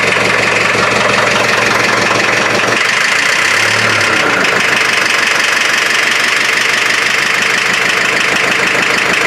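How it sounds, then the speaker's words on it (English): A hydraulic pump kicks on in a lowrider van, a loud constant droning whine and motor hum that shifts in tone partway through and then runs steadily. "That's the hydraulic pump kicking on."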